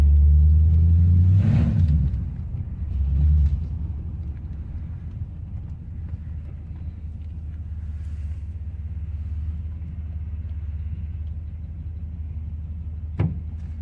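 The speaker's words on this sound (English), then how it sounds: "Sounds like a grain truck just driving normal, but it sounds pretty good wide open." A loud, rumbling Ford F-150 pickup with a glass pack exhaust roars close by at first, then drops to a steady low burble as the truck cruises on.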